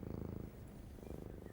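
A cat purring, a soft rhythmic low rumble with regular pulsing breaths, very quiet and close, heard alone without talk.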